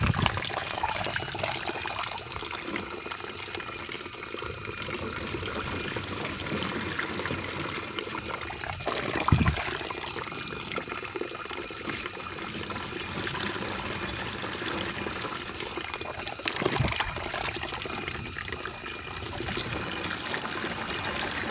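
Liquid organic fertilizer pours into a 20-liter tank of water as a steady trickling, splashing stream, continuous and moderately loud, with a couple of brief knocks.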